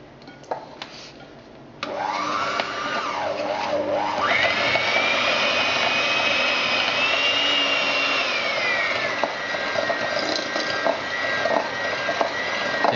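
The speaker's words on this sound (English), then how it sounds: "I'm going to use an electric whisk to whisk them together." Electric whisk creaming sugar and butter in a bowl for chocolate whoopie pies, a steady loud motor whine that shifts pitch as the beaters work the mixture, running continuously after a brief quiet start.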